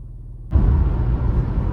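A car cruising along a Route 66 frontage road in central Illinois, starting with a quiet low hum before a sudden jump to a steady, fuller road and engine rumble that carries on evenly.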